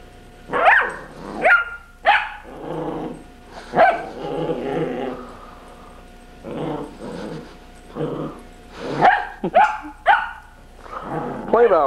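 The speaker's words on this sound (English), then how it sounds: "she is barking at the hairbrush" A small dog barks, yips and growls in repeated bursts at a hairbrush, with a person talking in between.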